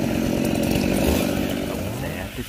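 A chainsaw cuts into a giant, very tall Melaleuca tree, its loud, steady buzzing close and continuous, easing slightly near the end.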